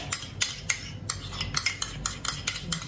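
A metal kadai handled on the stove while starting dal makhani with desi ghee, a quick run of bright metallic clanks and scrapes, about nine close knocks in under three seconds, with no voices.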